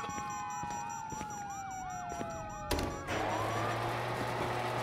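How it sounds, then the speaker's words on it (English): Police sirens in the video game GTA 5 wail in rising and falling sweeps alongside a steadier tone, then a sudden loud burst cuts in and a low engine drone continues, with no talking. "you hear that? Sirens!"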